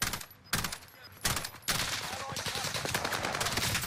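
Rapid gunfire in Warzone on the Fortune's Keep map, loud repeated automatic bursts with sharp cracks close by, continuing nearly without pause through the stretch.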